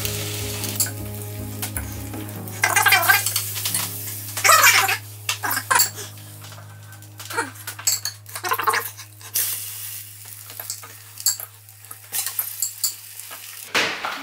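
Toast bread soaked in egg sizzles steadily in a pan with extra fat, with intermittent clinks and scrapes of a utensil and a constant low hum underneath.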